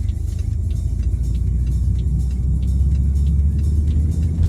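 A car pulls away through a busy downtown Halifax intersection, a steady loud low engine rumble with road noise that holds for several seconds and carries no talk.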